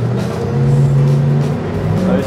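A Cobra sports car in the racing simulator Assetto Corsa holds a loud, steady engine drone with a rising rev in the middle, continuous through the whole moment with no talk.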